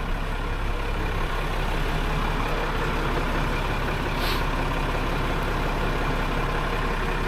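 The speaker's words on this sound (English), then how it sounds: "Here's the really old tractor, lawnmower tractor." Very old lawnmower tractor engine running steadily on a farm, loud and close, with a constant rumbling drone throughout and one brief sharp sound partway through.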